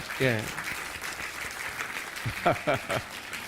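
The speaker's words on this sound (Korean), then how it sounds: "우리 박수로 웰컴백 한번." A congregation at a Sunday worship service applauds to welcome members back, a soft wash of clapping running beneath someone speaking.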